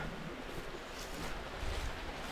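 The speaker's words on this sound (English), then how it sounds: "And this is the mother creek that I was talking about." A creek flows through a spring valley with a steady, even rush of water that fills the whole stretch, with no pauses and no talking.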